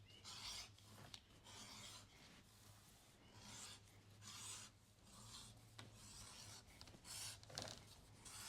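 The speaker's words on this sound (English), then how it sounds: "I'm using my Ron's number 3 edger here." A Ron's number 3 edger trims the edge of a leather belt in quick, faint scraping strokes. The rasping pushes come in short bursts with small gaps between them, close by and quiet, with no talk.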